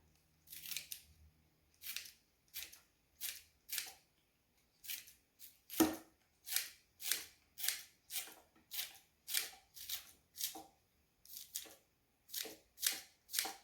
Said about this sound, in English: I'm gonna go ahead and kind of chop the green onion and put it in